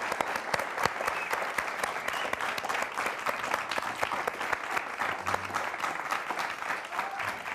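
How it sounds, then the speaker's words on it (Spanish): Sustained studio audience applause at a Chilean poetry talk show, steady dense clapping from a seated crowd, moderately distant and continuous with no speech over it. "Quiero darle un aplauso con el público que nos acompaña en el estudio a Diego Maqueira"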